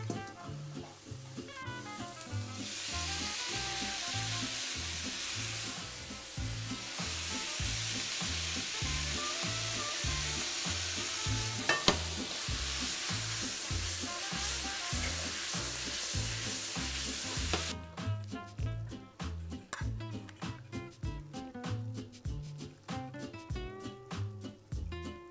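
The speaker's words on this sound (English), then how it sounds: "this is hot enough that when it goes in, it'll get even the sauce sizzling." Crispy General Tao chicken drops into hot sauce in a pan and sizzles steadily, a loud continuous hiss with stirring scrapes, the sizzle easing near the end.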